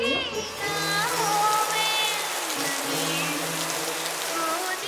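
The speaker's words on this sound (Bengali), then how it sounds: "এখন কিন্তু বৃষ্টিটা হালকা হালকা বেশ ভালোভাবে শুরু হচ্ছে" Light rain begins falling outside under dark clouds, a soft steady hiss of drops that fills the background while faint tonal sounds run over it.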